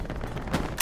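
A single loud, close anti-tank gun blast in the World War II shooter Hell Let Loose, with sharp broadband onset at the very end after a low rumble of distant battlefield noise.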